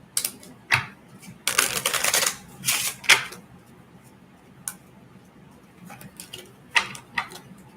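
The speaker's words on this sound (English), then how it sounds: "I'm just going to shuffle this deck of cards a couple times to pick up the energy." A deck of tarot cards being shuffled in a few quick riffling bursts, close and crisp, separated by short pauses with faint background noise.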